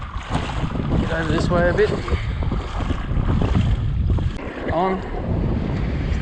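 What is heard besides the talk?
strong wind on the coast while fishing the flats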